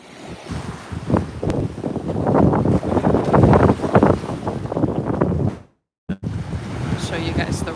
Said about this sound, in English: Let's just take a moment to listen to the ocean.